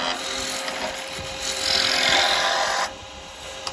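A carbide tool roughs down a wooden Christmas tree blank spinning on a lathe, giving a continuous close rasping scrape that swells midway and then drops away near the end.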